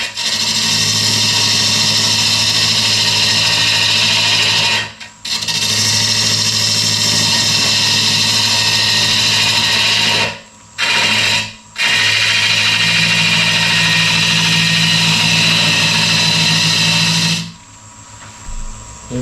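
A wood lathe turns a walnut cake stand, a loud continuous motor whine with the scraping hiss of the cutting tool, broken by a few short pauses before spinning down near the end.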